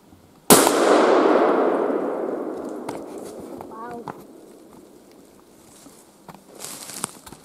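A single loud, close gunshot rings out during a hazel grouse hunt in the forest, its sharp crack followed by a long decaying echo through the trees, then quiet rustling.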